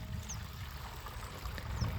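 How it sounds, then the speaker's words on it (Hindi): Canal water pours steadily into a crop sprayer tank outdoors beside a maize field, a continuous close, rushing flow with no pauses. "ये वाला पानी है खाल से, यो टैंकी में जा रहा है।"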